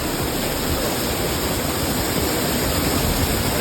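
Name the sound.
waterfall in village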